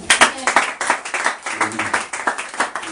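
Church congregation at a Sunday worship service clapping together in an uneven, lively burst of applause, close and fairly loud, with voices mixed in.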